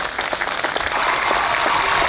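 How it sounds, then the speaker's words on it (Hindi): Sustained applause from an audience at a political gathering in Uttar Pradesh, a dense, steady wash of many hands clapping at even loudness throughout. "ये तालियां जोरदार होनी चाहिए प्लीज एवरीवन"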